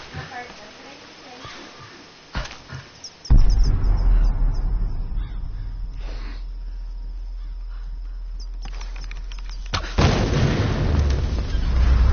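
A video game explosion hits with a loud, heavy boom and a sustained low rumble that lasts several seconds, a second blast following near the end, after a stretch of quieter sounds.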